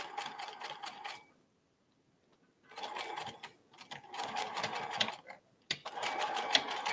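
A sewing machine with a faulty backstitch stitches a boy's ballet shirt in several loud, close bursts of rapid mechanical clatter, separated by short pauses and a longer silence.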